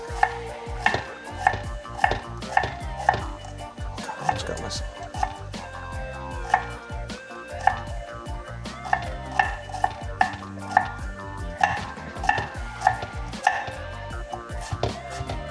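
Red onion being sliced as thinly as possible with a knife on a cutting board, giving a steady run of crisp, regular chopping taps close up over the whole stretch, with brief talk in between.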